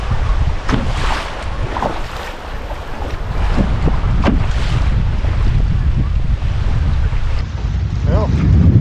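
Strong gusts buffet the microphone while canoeing on a fast, high-water river, a continuous loud roar of wind noise with rushing water beneath and a few brief sharper surges.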